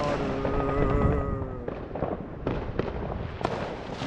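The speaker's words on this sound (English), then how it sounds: "fireworks that light up the sky and then fall into the water." Fireworks burst over water, a loud crackling boom at the start followed by several sharp separate bangs spaced about a second apart, with a steady rumble underneath.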